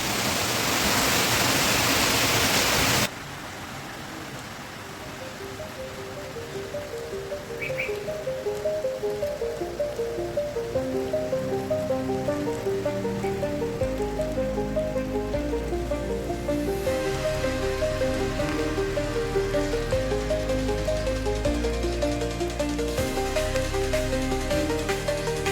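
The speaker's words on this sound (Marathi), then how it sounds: "फायनली पावसाने हजेरी लावली आमच्याकडे" Rain falls steadily outdoors at home, a broad continuous hiss that swells after a brief loud burst at the start and then persists with faint tonal hums underneath.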